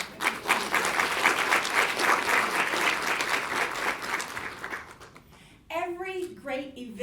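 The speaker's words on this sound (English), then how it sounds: "So give yourselves a hand clap." Audience at a women's inspirational brunch event gives sustained, dense applause for several seconds. It fades out and a voice then speaks close up.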